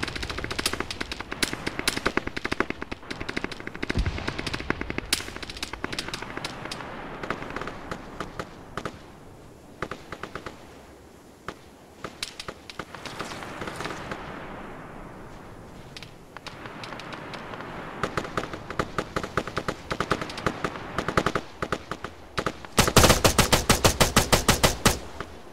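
Sustained bursts of automatic gunfire and scattered single shots fill a military video game firefight, loud and near, with rapid rattling volleys that rise toward a dense burst near the end.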